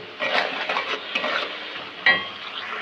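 Garam masala with ginger and garlic fries in a pan while a spoon stirs it, close scraping strokes over a light sizzle with a sharp metallic clack near the end, no talking.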